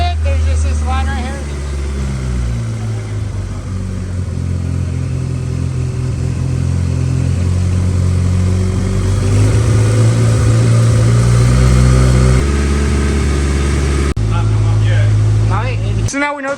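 A Honda S2000's engine idles and revs steadily close by after sitting unused for two years, a strong low rumble holding throughout with pitch rising slightly mid-way, while people talk over it.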